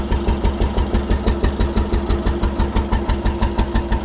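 A diesel engine running on alternative fuel idles close by, its low rumble pulsing in a steady, slightly knocking rhythm with no talking.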